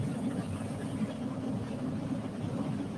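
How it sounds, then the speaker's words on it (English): A steady, low engine drone runs continuously at moderate level, an even rumble with no breaks or pauses. "I hope the engine sound isn't kind of overwhelming my audio here."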